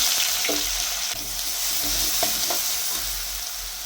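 Crushed garlic and ginger sizzling in hot oil in a pan, a steady close-up frying hiss with a few light stirring scrapes and clicks, no voices.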